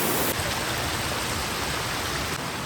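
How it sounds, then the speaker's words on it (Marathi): Water rushes continuously downhill in a loud, even roar, like a flowing stream close by near a waterfall, with no voices. "पाणी वाहतं येतं नुसतं सगळं. हे बघा वरतून खाली येते वाहत."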